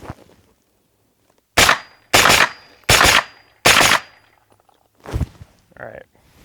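Four loud, sharp pistol caliber carbine gunshots with 100 grain ammo fire in a steady, evenly spaced rhythm, followed by a quieter fifth shot and a faint mechanical clink.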